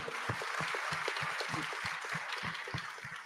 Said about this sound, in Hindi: बीएसएफ के लिए जोरदार तालियां बनती हैं इसमें